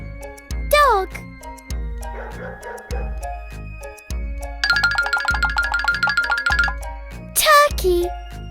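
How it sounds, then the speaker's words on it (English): A dog yips and barks amid bouncy cartoon sound effects and a steady rhythmic beat, with a voice chiming in. "Dog."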